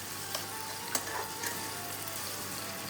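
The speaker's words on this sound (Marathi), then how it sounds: "थोडासा त्याला गुलाबी होऊ द्यायचा कांदा" Onion fries in a pan toward a pink colour, a soft, even background sizzle with a few faint knocks of a spoon, fairly quiet and without voices.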